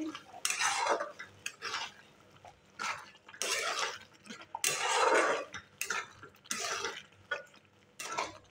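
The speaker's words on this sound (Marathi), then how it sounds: "आता ह्याच्यामध्ये टाकायचे बटर आणि बारीक चिरलेली कोथिंबीर आणि मिक्स करून घ्यायचे" Butter and finely chopped coriander are stirred into pav bhaji with a metal spoon in a pan, giving repeated scraping and clinking strokes in short irregular bursts at close range, with no talking.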